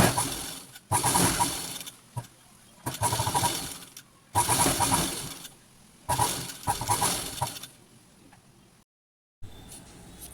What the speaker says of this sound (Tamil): அந்த எட்ஜில் வந்து கொஞ்சம் வளைவாக அப்படியே தைச்சி எடுத்துக்கோங்க